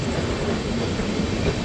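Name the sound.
Netaji Express train at Bardhaman Junction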